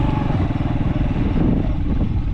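A motorcycle engine runs steadily at a low, rough idle with clattering pulses, close by on a mountain outing, loud and continuous with no voices over it.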